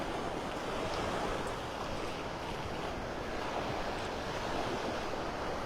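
Surf rolls onto the sand at Wiggins Pass in North Naples, Florida, a steady broad wash of breaking waves with wind buffeting the microphone, continuous and fairly loud with no voices.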